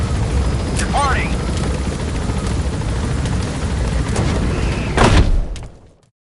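Helicopter departing in Metal Gear Solid V: The Phantom Pain, a loud steady rotor and turbine roar with a brief mechanical burst near the end before the sound cuts off abruptly.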